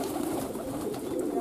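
Flock of breeding pigeons in a communal farm cooing continuously, a dense murmuring mass of low, rolling coos heard up close.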